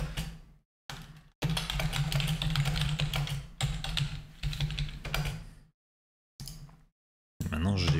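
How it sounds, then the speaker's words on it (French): Fast typing on an English computer keyboard, close and loud, comes in dense bursts of clicking keystrokes separated by short pauses. "Quand on sait pas taper sans regarder le clavier."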